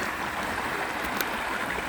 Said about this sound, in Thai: น้ำไหลเชี่ยวมากค่ะ